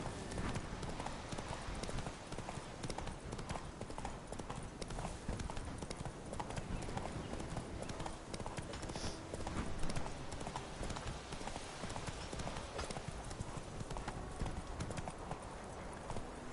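Horse hooves clip-clop steadily and continuously on a hard surface, fairly loud and close, with a dense bed of background noise throughout.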